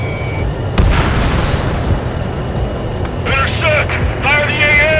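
Anti-aircraft guns open fire in the jet combat game Ace Combat 7, a sharp boom followed by steady flak and battle rumble under radio chatter and shouted voices.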